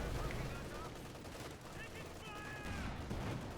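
Sustained 50 cal machine gun fire in the Company of Heroes 2 video game, continuous rattling bursts blended with battle noise under a commentator's voice.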